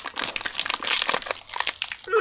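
Silver foil packaging around a Kidrobot toy figure being torn and crumpled open by hand, a close, sharp burst of crinkling and rustling lasting about two seconds.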